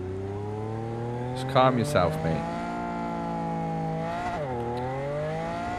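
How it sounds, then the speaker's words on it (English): A car engine in Cyberpunk 2077 drones steadily under a man's brief spoken line, its pitch dipping and climbing again as the vehicle drives, with a short burst of noise near the start. "This car always sounds like you need to change gear."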